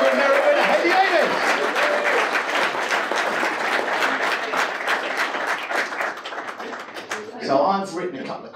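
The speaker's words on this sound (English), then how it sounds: "can I ask you to give a huge round of applause, please, to our LET Access Tour Ordinary winner" Sustained audience applause follows the introduction of a women's golf tour winner at a golf club, dense steady clapping that fades slightly toward the end as a voice begins speaking.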